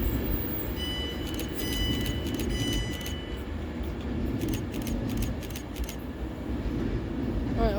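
A Class 350 electric multiple unit on a Birmingham New Street service at Stafford station on the West Coast Main Line, giving a steady, loud rumble of train running throughout with brief high metallic squeals and clicks early on.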